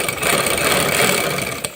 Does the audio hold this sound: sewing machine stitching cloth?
yes